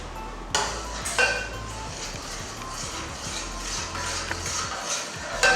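A spoon works spices through a pot of cooking acha (fonio) and beans, giving scattered metallic clinks and scrapes over a soft steady background, fairly close and without talk.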